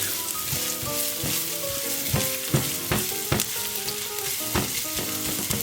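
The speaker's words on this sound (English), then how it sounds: "I'm gonna make saute like around 30 seconds or 1 minute" Ingredients sauté in a pan on a stovetop, a steady close sizzle broken by repeated sharp scrapes and clacks of stirring.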